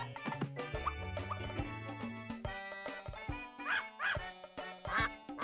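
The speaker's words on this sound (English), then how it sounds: "Pep, could you help the mama duck get her baby ducks into the pond?" Cartoon ducks in the Putt-Putt Pep's Birthday Surprise computer game quack in short bursts over bouncy game music, the quacks clustering toward the end and moderately loud.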